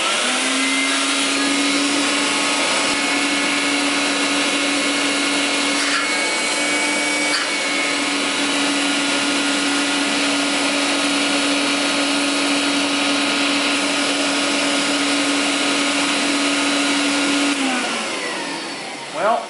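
An old 1940s Electrolux vacuum cleaner runs continuously up close with a steady whining motor drone and airy rush, nearly unchanging for the whole stretch before it powers down at the end.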